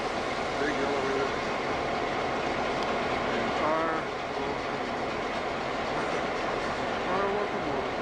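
A GP-9 locomotive pulls a train along the mainline, its steady, loud diesel rumble and wheel clatter continuing throughout, with brief squeals and a voice talking over it.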